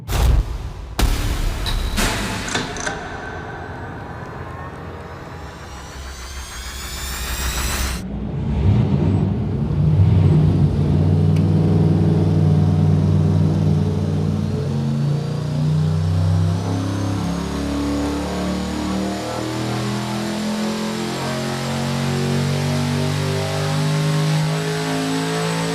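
A turbocharged junkyard short-block engine on a dyno makes a loud pull, first a few sharp revs, then a long, sustained, rising roar that holds strong to the end.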